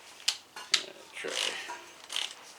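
Powered driver with a magnetic tip working a rusted screw out of a dryer panel, giving two short sharp clicks followed by a brief whirring burst and a final quick buzz, close by.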